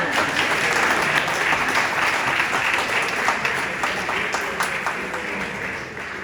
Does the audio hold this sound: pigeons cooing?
no